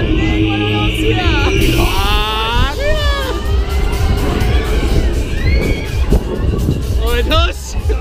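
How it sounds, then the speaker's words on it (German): Crowd of riders on the Circus Circus fairground ride at the Rheinkirmes in Düsseldorf cheering and shouting, with children's shrieks and whistles over a steady loud rumble of ride machinery and babble, sustained throughout. "Applaus! Jawohl!"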